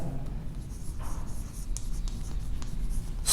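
Pen writing a math formula by hand on paper, a short stretch of close, soft scratchy strokes with no talking.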